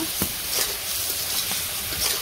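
Turmeric and chili powder sauté in a hot pan with a steady sizzle, punctuated by soft scraping stirs at close range.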